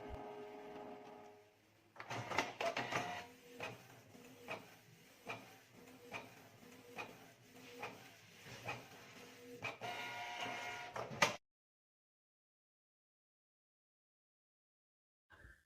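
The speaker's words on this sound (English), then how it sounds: "Now I'll print another nozzle check to check if the problem has fixed." A Canon Pixma G2411 inkjet printer runs a nozzle check after a faint whir, with about a dozen rhythmic carriage passes and mechanical clunks for roughly nine seconds before stopping abruptly into silence.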